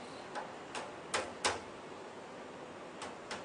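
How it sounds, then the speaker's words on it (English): Several light, sharp hammer taps on a pin, spaced irregularly, with two slightly louder hits in the middle, against quiet room background. "We use the hammer, gently tap it."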